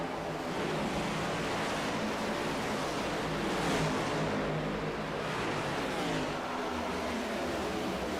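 Race cars in a sim racing game at Pocono Raceway roar past in a steady, dense engine drone that swells slightly midway and holds loud throughout, with no voices.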